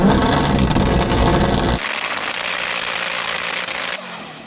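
A modified 1,000hp all-wheel-drive Honda engine roars loudly at high revs, then drops to a lower, rougher drone as the revving eases off.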